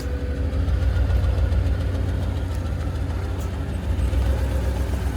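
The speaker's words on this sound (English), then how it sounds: "Granddaddy Caddy got a brand new exhaust." A 1995 Cadillac Seville idles through a brand-new exhaust with roll tips, giving a close, steady, low rumble with a faint knocking pulse and no talk over it.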